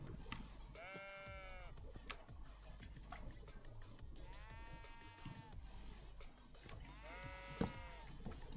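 Sheep bleat three times in a video game, each bleat a wavering, drawn-out call spaced a few seconds apart over a soft ambient bed, with a brief sharp knock near the end.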